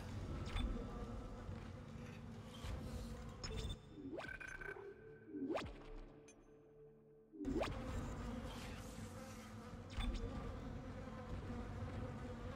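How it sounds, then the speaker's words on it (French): Dense, steady insect buzzing of flies swarming in the sci-fi horror video game Dead Space, droning loudly throughout with brief dips where other game sounds sweep through. "Il y a des mouches partout"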